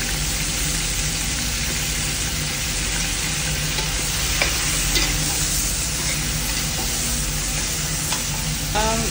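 Onion frying for lomi is stirred in a hot pan, with a steady, loud sizzle running throughout and occasional scrape and clink accents from the stirring utensil.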